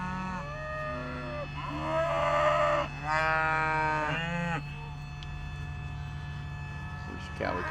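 A part-Jersey heifer herd mooing, with several long, tonal calls close by in the middle stretch over a steady low background hum, then fading to quieter ambience.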